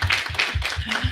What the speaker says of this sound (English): you can recognize her with a well-deserved round of applause